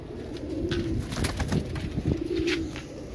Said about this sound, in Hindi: पूरा कुरीद में है कबूतर